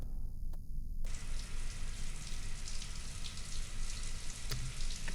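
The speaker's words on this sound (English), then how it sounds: "this shower's shooting pennies at me" A shower sprays in the video game White Knuckle. The water starts after a brief moment and keeps up as a dense, steady rushing spray, close and alone.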